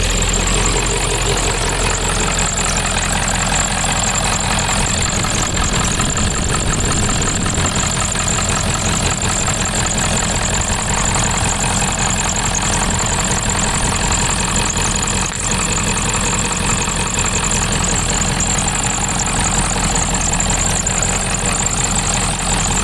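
A 1997 Ford F-350 engine idles after sitting for ten years, giving a loud, steady, unbroken rumble with a faint knocking texture that lasts throughout with no voices.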